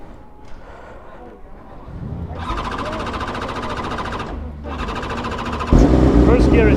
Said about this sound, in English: I was on board the Alpha Racing Superbike